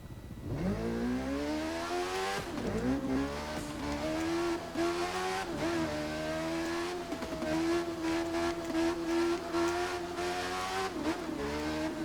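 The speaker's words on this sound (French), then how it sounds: "Une voiture." A car engine in The Crew 2 racing game roars loudly and continuously, its pitch climbing in repeated surges as gears shift, with no voices.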